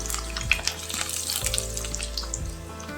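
Garlic and onion sautéing in hot oil in a pan, a continuous loud crackling sizzle with a few stirring scrapes, close up and without any voices.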